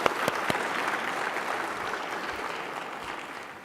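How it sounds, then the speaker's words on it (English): An audience at a reconciliation award ceremony applauds the Lekwungen dancers, a full, even wash of clapping with a few sharp claps at the start, gradually tapering slightly. "How about a round of applause, the Lekwungen dancers?"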